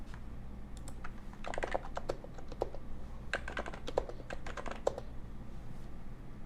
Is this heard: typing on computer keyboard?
yes